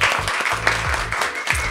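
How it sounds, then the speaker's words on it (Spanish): Applause in a set called La Mansión during a Colombian talk show, a steady wash of clapping with music or a voice running underneath at moderate level. "Un fuerte aplauso, por favor, a toda la gente que nos colabora."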